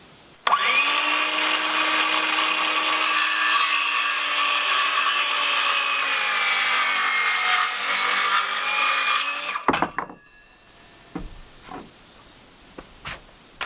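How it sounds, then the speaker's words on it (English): A cordless circular saw cuts through a wooden framing board for a workshop roof build, a loud sustained whine lasting about nine seconds before cutting off, followed by a few sharp knocks and clatters of wood. "Thank goodness for cordless saws, though."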